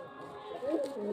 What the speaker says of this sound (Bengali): এই যে পায়রা দেখুন, খুব সুন্দর সুন্দর পায়রা আছে